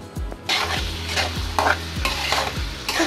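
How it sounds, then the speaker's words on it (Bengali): Broad bean seeds stir-fried in spices in a pan, a constant sizzle with rhythmic scraping strokes of a spoon roughly every half second, close and lively, no voices. "খুব সুন্দর করে সিমের বিচিটাকে কষিয়ে নেব।"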